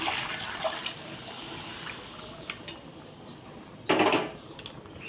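Boiled water poured into a pot of cooking chana dal with jackfruit, a steady wet trickle and splash running throughout, with a sharper, louder gush near the end.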